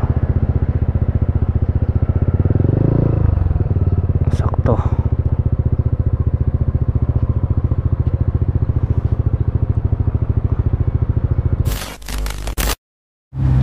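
Motorcycle engine idling steadily up close with a low, even throb while the rider looks for parking at a hospital, a brief spoken word partway through and a sudden cutout near the end.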